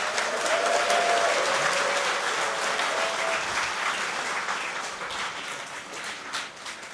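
Sustained audience applause at an American Legion inauguration ceremony, a broad wash of many hands clapping steadily for several seconds before gradually softening.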